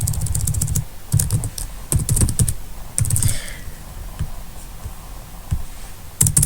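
Bursts of typing on a computer keyboard while writing JavaScript code, close and crisp, with rapid clusters of key clicks separated by short pauses.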